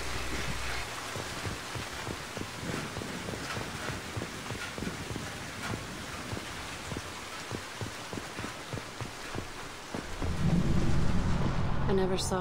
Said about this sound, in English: This is one where I kind of like the fact that it's raining, because you can look and see the water running off my armor.